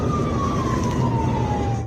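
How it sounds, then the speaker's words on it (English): A loud emergency siren wails nearby, its tone sliding slowly downward over a heavy rumble of road traffic. "Lights and sirens flashing everywhere."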